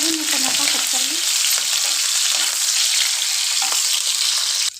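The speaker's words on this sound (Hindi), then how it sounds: "इसी प्रकार से प्याज को फ्राई कर लेते हैं।" Thickly cut onions fry in a pan with a strong, continuous sizzle, brief low scraping from stirring early on, then a steady close hiss until it cuts off.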